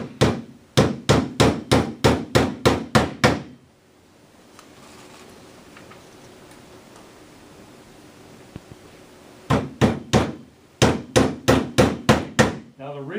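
Hammer driving nails into a wooden beehive frame: a quick run of about nine sharp, evenly spaced blows, a pause with faint rustling, then two more close, loud runs of strikes.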